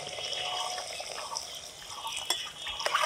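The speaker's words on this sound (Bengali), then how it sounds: "গামলাতে অল্প জল দিলাম।" Water poured into a pot of chicken curry, a continuous close trickle and splash with a few brief drips and clinks near the end.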